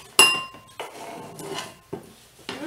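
Chopped onions dropped into a kitchen dish for steak fajitas, heard as four sharp clattering clinks with a ringing tone, spaced roughly half a second to a second apart and fading between hits.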